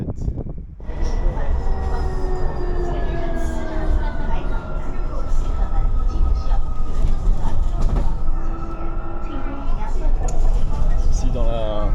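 A metro train in China, resembling a French RER commuter train, rolls loudly along with a steady rumble and long squealing wheel tones, heard from inside or very near the carriage throughout.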